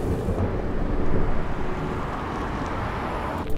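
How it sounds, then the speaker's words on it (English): Low, rolling thunder rumbles in the distance, a broad sustained roar that swells briefly and then fades into steady background noise. "Do you hear the thunder?"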